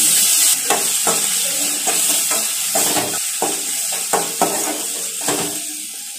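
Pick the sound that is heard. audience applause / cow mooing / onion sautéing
onion sautéing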